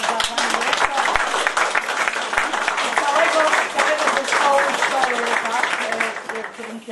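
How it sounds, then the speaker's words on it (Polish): Audience applause for a school director at a Pobiedziska town-day ceremony, a steady dense clatter of many hands sustained for several seconds over background music and chatter. "Ukłony i oklaski za panią dyrektor."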